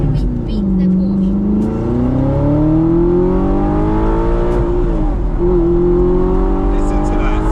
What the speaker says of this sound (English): What a lovely sounding car this is.